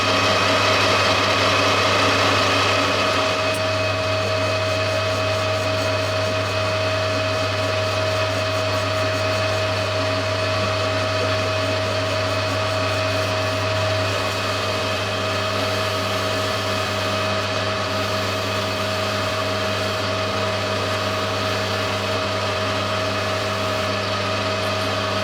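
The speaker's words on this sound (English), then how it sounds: "I'll just machine the biggest diameter and then we'll do the rest with the file." A metal lathe machining the largest diameter of a cast brass machinist's hammer head runs with a steady, droning mechanical hum and a constant whine, loud and unbroken throughout with no voices.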